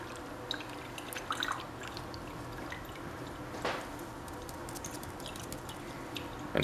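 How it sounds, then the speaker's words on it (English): Faint, sparse drips of liquid while a cobalt triphenylphosphine complex is filtered in a lab, scattered irregular taps over a quiet background hiss. "now I'm gonna filter it."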